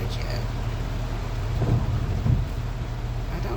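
Thunder rumbles during a storm with rain, a low continuous roar with two heavier swells midway, moderately loud and steady throughout.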